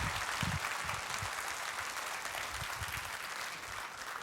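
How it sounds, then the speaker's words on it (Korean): Church congregation at a Sunday worship service gives warm applause welcoming visiting guests, a steady wash of many clapping hands heard from some distance, even and sustained throughout. "여러분 뜨거운 박수로 맞아주시기 바랍니다"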